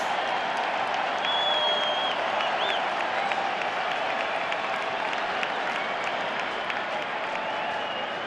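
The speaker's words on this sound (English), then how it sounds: "The crowd coming to life." A baseball stadium crowd at the Philadelphia Phillies' 2022 season opener against the Oakland A's cheers and applauds in a dense, sustained roar, with a few whistles cutting through.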